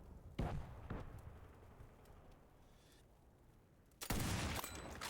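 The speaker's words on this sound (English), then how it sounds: "So I have an artillery call right here." Artillery strike called in as a kill streak in a beta shooter game: two heavy blasts near the start, then a steady rumble, and a bigger, sustained barrage of explosions near the end.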